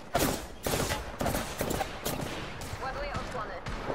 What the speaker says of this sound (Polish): Jestem pod ostrzałem.